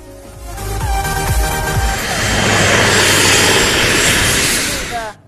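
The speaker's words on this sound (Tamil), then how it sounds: "போர் விமானங்கள், ஹெலிகாப்டர்களின் சாகச நிகழ்ச்சிகள் கடந்த 2 நாட்களாக நடந்தன" Military jets and helicopters at a 2021 air show make a loud, continuous engine roar that swells to a peak and then cuts away, with no talking.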